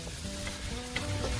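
Italian seasoning being stirred into onion and garlic frying in a pot for tomato sauce: a short, soft sizzle with a light scrape of the spoon, no voices.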